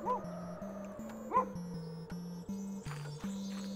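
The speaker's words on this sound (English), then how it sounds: "Oh, there's our little doggy Spittle." A small dog in The Count Lucanor video game gives two short yips over steady chiptune background music, faint and close, with no talk.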